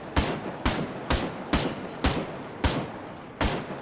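Seven sharp gunshots from new guns in the survival video game Miscreated, fired one at a time at an irregular pace roughly every half second, loud and close, with no talk.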